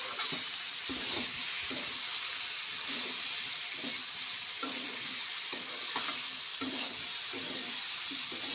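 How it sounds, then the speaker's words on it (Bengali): Vegetables frying in a pan for a fish curry with brinjal and potato, an even hiss of sizzling oil under regular, rhythmic spatula stirs repeating roughly every half second. "সবজিগুলা সুন্দর করে ফ্রাই হয়ে গেছে"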